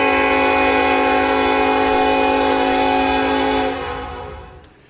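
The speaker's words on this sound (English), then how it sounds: "the sound of trains" A loud, sustained train horn chord holds steadily for several seconds, then tapers off as it fades away.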